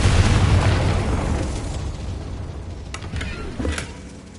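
A Confringo fire spell explodes in the game Hogwarts Legacy as a dull, broad boom that rumbles and slowly fades, followed by a few faint crackles.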